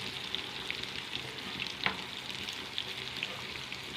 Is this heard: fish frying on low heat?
yes